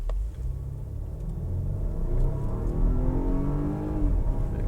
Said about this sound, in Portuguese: vamos ver como que se comporta o powertrain todo em termos de aceleração